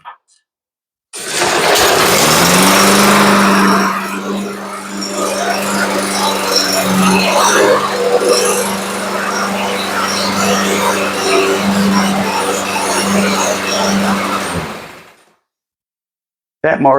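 A used lawn mower with a previously broken cable starts abruptly and runs at a steady loud drone for about fourteen seconds, then cuts off and winds down to silence.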